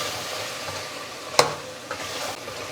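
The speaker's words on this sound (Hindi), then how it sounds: "अभी 5 से 7 मिनट के लिए भुनाई करते हैं" Spices roast in a pan for mutton bhuna gosht under a soft, continuous sizzle, with one sharp scrape of the stirring spoon in the middle and lighter scrapes after it. There is no speech.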